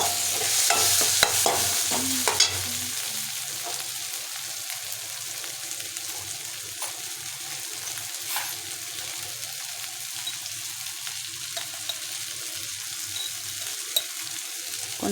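Tomatoes sautéing in a pan for egg rice give off a soft, steady sizzle with stirring, louder and busier in the first few seconds and then settling into a quieter continuous frying hiss.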